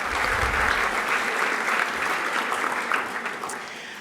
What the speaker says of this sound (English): Can we have another round of applause for Marisa and Marisa's husband?